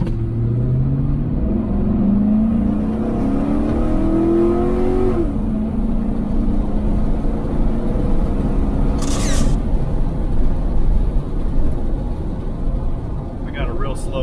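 GMC Sierra pickup accelerating hard from a standstill on a 0-60 run, its engine climbing steadily in pitch with a loud, close roar before easing off, with road rumble throughout.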